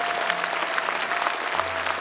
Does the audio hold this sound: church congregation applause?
yes